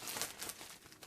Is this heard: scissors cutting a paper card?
yes